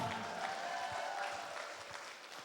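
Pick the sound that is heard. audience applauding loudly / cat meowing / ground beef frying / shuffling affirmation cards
audience applauding loudly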